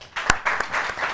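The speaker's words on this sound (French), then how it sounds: "que je vous demande d'applaudir" An audience at a school quiz contest between Lycée Koumba-Ndofène Diouf and Lycée Alpha Molo Baldé claps for a school team, a short burst of hand claps with one sharp clap standing out early before the applause settles into a looser patter.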